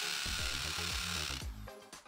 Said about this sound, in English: We use the drill to make a hole in the wall.